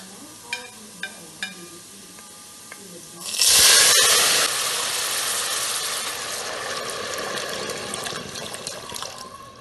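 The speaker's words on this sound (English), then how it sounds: "Now it's time to add the broth." Homemade seasoned broth poured into a pot of rice for Mexican salsa rice, a sudden loud rushing gush that settles into a steady liquid hiss, preceded by a few light kitchen clicks.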